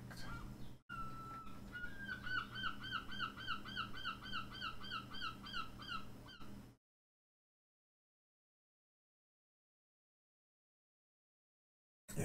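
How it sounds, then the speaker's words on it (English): A seagull calls repeatedly from a rooftop by the sea, a rapid run of loud, shrill, rhythmic cries over low background hum lasting several seconds, then silence. "Yes, we have a seagull on the roof."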